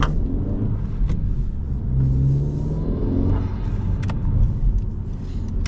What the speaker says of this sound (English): It's fun having a small turbo car, because you can spool that anywhere and you can hear the sexy noises